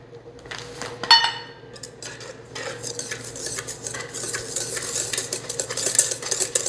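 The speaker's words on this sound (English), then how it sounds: "Got that sugar mixed in." Spoon stirring sugar into pie filling in a bowl, a few scraping clinks early on followed by steady soft mixing and rubbing against the bowl, close and fairly quiet.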